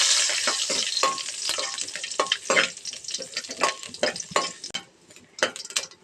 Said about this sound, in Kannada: ಎಣ್ಣೆ ಬಿಸಿ ಇರುವ ಕಾರಣ ಸ್ವಲ್ಪ ಫ್ರೈ ಮಾಡುವ